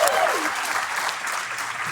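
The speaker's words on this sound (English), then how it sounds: "Everyone, please, a big round of applause." An audience applauds at a design presentation, dense clapping from a crowd held at a steady level for a couple of seconds.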